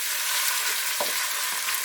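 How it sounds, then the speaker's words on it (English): Onion for a colonial-style chicken curry with potatoes sizzling in a pan, a steady bright hiss of frying with a couple of soft stirring scrapes, close and alone. "So you keep that stirring and frying, and this is key because what we're trying to do is reduce that onion down,"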